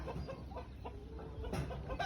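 A one-year-old, 3 kg green-legged fighting rooster clucks softly in short low calls, close by over a steady background murmur.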